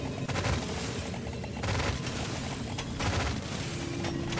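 Weapons in the video game Deep Rock Galactic Survivor fire continuously in dense rapid volleys with booming hits, keeping up a loud, sustained barrage throughout.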